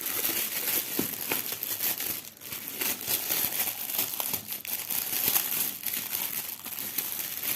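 Clear plastic bags wrapped around small three-tier diamond painting storage cases crinkle and rustle steadily as they are opened up close, with no talk over the sound.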